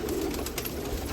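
Decades-old racing pigeons kept in a loft at Nashik Road give soft, rolling coos under a constant hiss, nearby and unbroken through the short stretch, with no one talking.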